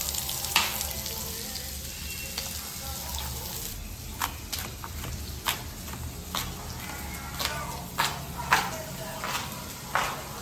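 Chopped onions sizzle in hot oil in a pan for chow mein noodles, a steady frying hiss broken by sharp utensil taps and stirring clicks at close range.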